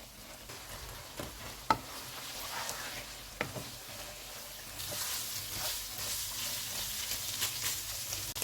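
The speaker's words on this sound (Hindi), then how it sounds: "अब हम चूल्हे को मीडियम टू हाई कर देते हैं और इसको ऑयल अलग होने तक भून लेंगे।" Minced keema fries in oil on a stove over medium to high heat, a continuous sizzling crackle with a few sharp clinks of stirring, growing brighter and louder in the second half, close up with no talking.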